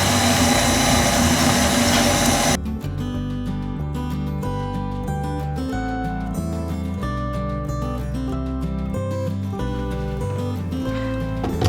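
A stand mixer with a whisk attachment whirs as it mixes bread dough ingredients. The motor drone is loud and steady for about two and a half seconds, then cuts off as music continues.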